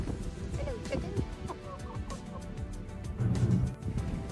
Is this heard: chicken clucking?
yes